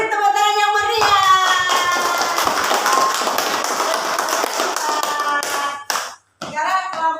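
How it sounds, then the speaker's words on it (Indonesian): Loud, lively clapping from a classroom group cheering students after their presentation, with a chatter of voices and pitched vocal sounds layered over it, ending in a brief pause and a short burst of voices. "Beri tepuk tangan yang meriah."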